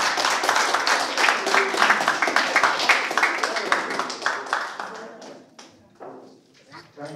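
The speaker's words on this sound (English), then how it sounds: "A round of applause, please." Audience applause at a book launch in a church, dense rapid clapping from a crowd that builds loudly, then thins out into scattered claps toward the end.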